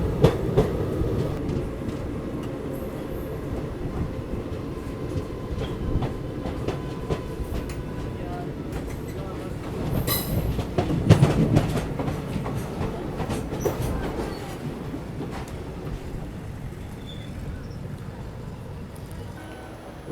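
Shalimar Express train pulling into Meerut Cantt station, a steady rumble of rolling coaches with clattering wheels and a brief metallic squeal midway, fading as the train slows.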